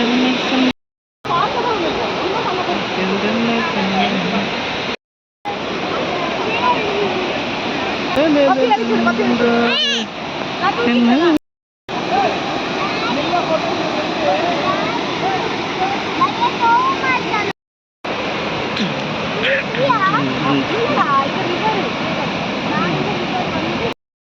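Athirappilly Waterfalls in Kerala roar with a steady, loud rush of falling water, a continuous broadband wash broken by a few brief cuts, with people's voices faintly mixed in at times.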